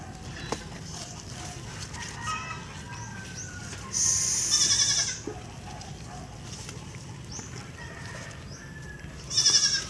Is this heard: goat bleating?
yes